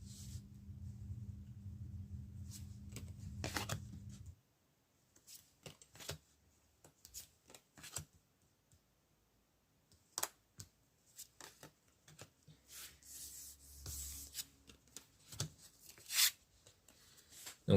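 Tarot cards being shuffled with a soft rumbling riffle, then drawn and laid down as scattered light slaps and rustles, close and quiet.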